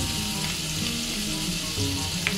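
Radhuni seeds and garlic sizzle steadily in hot oil, a continuous close crackle with faint stirring, no voices.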